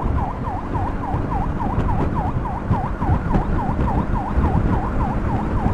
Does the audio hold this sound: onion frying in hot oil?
no